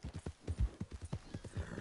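Horse hooves clip-clop in a quick, steady rhythm from a mount in Red Dead Redemption 2 Online, each strike close and distinct, with game ambience faintly underneath.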